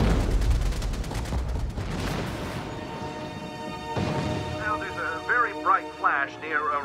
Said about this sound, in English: I'm going to stick this microphone outside the window now so you can hear some of these explosions and the anti-aircraft fire